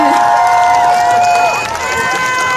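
A festival audience at an outdoor Korean cultural festival stage cheers and applauds loudly, with shrill whoops and screams over continuous clapping, dipping briefly then swelling again.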